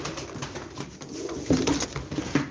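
Tumbler pigeons coo in low, throaty bursts at a live auction, with a couple of louder coos standing out over a steady murmur of background noise.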